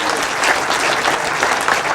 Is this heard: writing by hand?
no